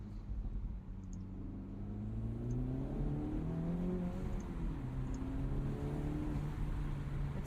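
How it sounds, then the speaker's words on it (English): Deep Jeep exhaust rumble heard from inside with the windows open, steady low drone with gentle revving rising and falling, no talking. "What does exhaust sound like with the windows down?"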